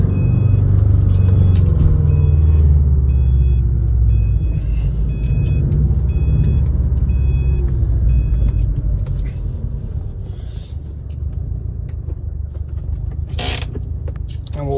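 A 2013 Subaru WRX STI engine rumbles steadily at close range as the car moves, with mechanical creaks and a few short high beeps over the low drone.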